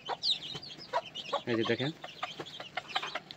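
Chickens cluck nearby while receiving Ranikhet vaccine drops at the start of winter, giving short repeated clucks and one louder burst, with a person speaking briefly over them.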